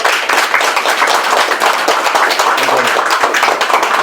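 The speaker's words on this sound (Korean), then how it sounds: "박수로 크게 환영해 주시기 바랍니다." A press-conference audience claps steadily to welcome former councillor Kim Gwang-seon: dense, continuous applause that fills the space at an even level from start to finish.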